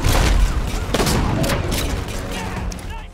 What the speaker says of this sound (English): The shotgun, as well, has a much chunkier sound to his shot compared to the older entries